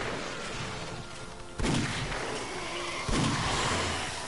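Gunshots in the video game 7 Days to Die: two heavy, booming shots about a second and a half apart over a constant roar of in-game background noise.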